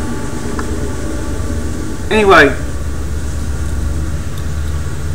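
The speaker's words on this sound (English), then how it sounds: "and there's a train." A train passing during talk, heard as a brief swelling rumble with a bright sweeping whine lasting about half a second midway, over a steady low background hum.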